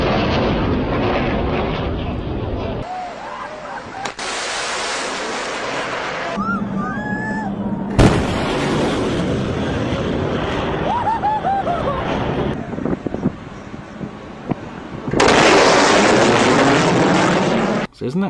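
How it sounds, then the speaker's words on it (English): Supersonic planes breaking the sound barrier, delivering several loud, sudden booms and roaring passes separated by quieter stretches, with some voices and laughter between them. "you're going to hear loud booms"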